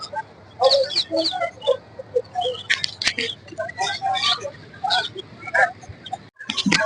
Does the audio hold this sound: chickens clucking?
yes